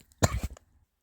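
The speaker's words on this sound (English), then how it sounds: "Pardon the cough." A single short, harsh cough, close and fairly loud, followed by quiet.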